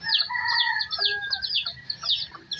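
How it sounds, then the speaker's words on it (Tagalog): A laying hen clucks and calls close by in a rural yard, with repeated short clucks and squawks running steadily through the clip amid other faint fowl sounds. "titignan natin yung ating nangigitlog na inahin"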